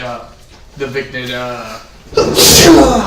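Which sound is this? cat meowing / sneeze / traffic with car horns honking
sneeze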